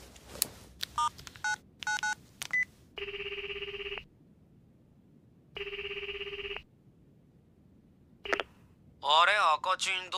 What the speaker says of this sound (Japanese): 電話してみよう。